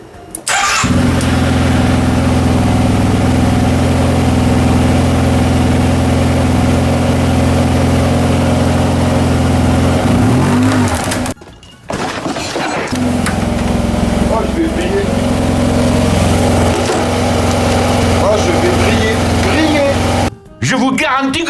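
A 2008 Yamaha TMAX scooter engine, still warm, runs steadily after starting, a loud continuous close-up drone with a brief cut-out near the middle and another short drop near the end.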